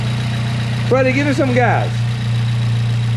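A car fitted with a Fab9 Elite intake idles with a steady low hum, close and even throughout, while someone speaks briefly over it.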